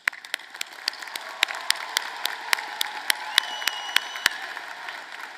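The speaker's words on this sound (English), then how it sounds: "Please join me in showing our appreciation with a round of applause for their efforts." Clapping rises from a commencement crowd, with sharp individual claps standing out above a soft, steady patter of applause that keeps going throughout.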